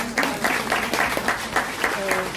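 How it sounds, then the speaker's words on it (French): Audience at a women's rights day celebration applauding a graduate, steady dense clapping with rhythmic bursts throughout, fairly loud, with a faint voice or tone near the end. "nous devons l'applaudir très très fort"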